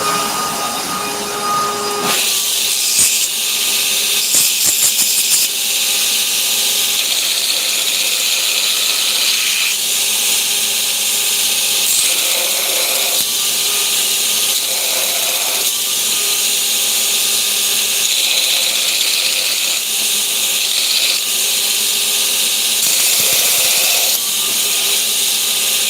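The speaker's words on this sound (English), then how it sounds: "Let me deburr real quick." Power tool deburring a forged ball peen axe at a forge, a loud, continuous high grinding whine with shifting squeals and scraping. It starts abruptly after a short lead-in and holds for the rest of the clip.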